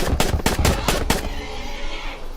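A rapid burst of about six loud gunshots fired at a creature in the video game Island Survival, evenly spaced and close, trailing off into a lingering rumble.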